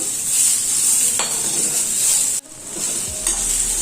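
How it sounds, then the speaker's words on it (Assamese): Boiled potatoes fried in a pan with cumin give a steady, loud sizzle with stirring scrapes, one brief drop-out partway through, then the frying sizzle resumes with no voices. "আলুখিনি মই অলপ টাইম ভাজি লম"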